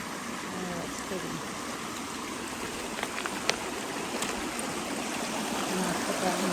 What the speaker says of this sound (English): Look at this cool creek.